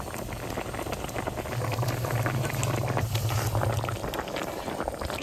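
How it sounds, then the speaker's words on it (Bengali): A cooking pot of water boils steadily for a Bangladeshi mustard-poppy curry with local sarputi fish, giving a continuous close bubbling and rumbling roil at an even level throughout, with no voices. "জলটা ফুটে গেছে, এখন আমি ভাজা মাছগুলো ছেড়ে দেবো।"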